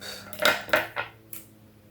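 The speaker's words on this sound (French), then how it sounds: "J'ai mon lave-vaisselle qui fonctionne. Et il est dans une phase... Il fait du bruit." A running dishwasher clattering: four sharp clinks of dishes knocking together, close by, over a faint low hum.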